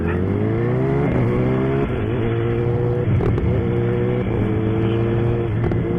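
A Ducati Panigale V4 motorcycle engine revs hard and loud, pitch climbing then dropping with quick quickshifter gear shifts, continuous throaty roar throughout.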